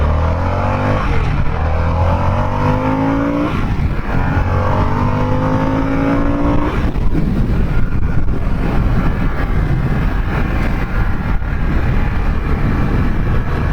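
A 2021 Harley-Davidson Sportster S motorcycle accelerates hard through rising gears, its loud, close engine note climbing in pitch, dropping at each shift and climbing again, with steady wind rush throughout.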